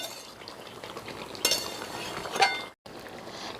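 Chicken curry with potatoes is stirred in a pot: a faint, soft scraping and bubbling, with a couple of sharp metallic clinks of the spoon against the pot.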